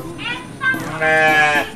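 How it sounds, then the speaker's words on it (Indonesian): Sheep bleating in a rural Sundanese setting while being fed, a few wavering calls in close succession, with voices talking around them. "Keur marap domba."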